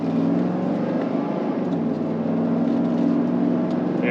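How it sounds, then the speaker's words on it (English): Steady, loud drone of a 1992 Cadillac Allante's 4.5 liter V8 under acceleration, heard from inside the car as a continuous engine hum that rises slightly in pitch. "that V8, I mean, it pulls the Cadillac down the road with ease"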